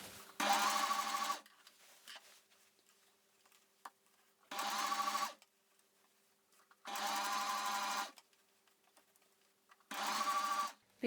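Sewing machine stitching thick fabric for pants or bloomers, running in four loud bursts of about one to two seconds each, separated by near-silent pauses.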